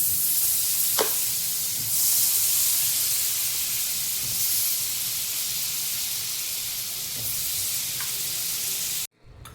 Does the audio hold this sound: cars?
no